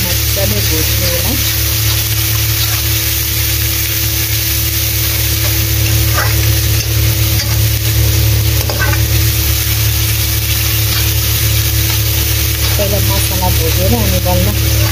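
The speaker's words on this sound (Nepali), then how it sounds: "मसला राखेर अब यो मजाले भुट्नु होला।" Spices fry for a fish curry in a pan with mustard oil, a loud, continuous close-up sizzle with occasional stirring scrapes, over a steady background hum.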